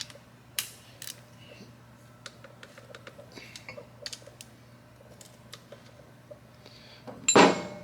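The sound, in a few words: torquing bolts on a Harley Davidson Milwaukee 8 engine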